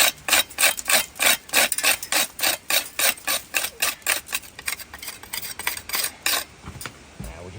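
A tool scrapes excess lime mortar off a stone wall during lime pointing in Scotland. About two dozen short, rasping strokes come in a quick, steady rhythm, close and fairly loud, then slow and fade toward the end.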